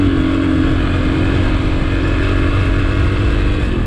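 A motorcycle engine drones loud and close with a steady roar while riding on dirt and sand at Pinyon Mountain, holding an even pitch without pauses.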